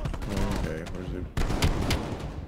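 Gunfire exchange in Call of Duty Black Ops Cold War, a bunker assault: dense bursts of shots and explosions layered over game music and talk, with a sharp loud burst midway.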